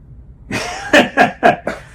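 One person gives a short burst of coughs, four sharp hacking pulses in quick succession after a brief breathy lead-in, close and fairly loud in a quiet indoor space.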